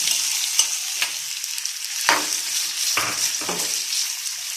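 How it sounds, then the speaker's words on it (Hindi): Chopped potatoes fry in a pan of hot oil for an Afghani potato-and-egg omelette, giving a steady close sizzle broken by a few louder stirring scrapes and spatters, with no talking. "अब हम इसमें आलू कटे हुए डाल देंगे"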